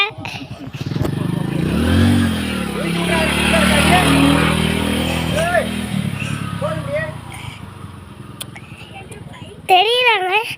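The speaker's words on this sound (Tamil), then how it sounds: "எங்க அம்மா பைக் ஓட்டுறது" A motorbike ridden by a woman, engine droning steadily at close range with rising and falling revs, while voices talk over it and a voice chimes in near the end.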